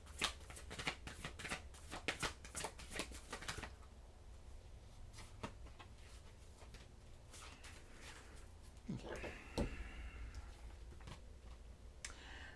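Oracle cards shuffle in quick papery riffles and flutters, loudest early on and then softer, with a few clicks toward the end; a voice talks faintly beneath.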